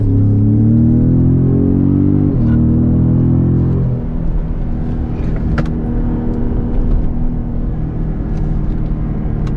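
A 2017 Ford Raptor EcoBoost truck accelerating hard, engine pitch climbing loudly up to a shift around two seconds, then a steady deep road rumble from inside the cab.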